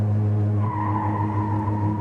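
A car brakes hard under remote command while its driver keeps pressing the accelerator, the engine drone steady and loud as a rising tire squeal and skid cut in midway and carry on through to the end.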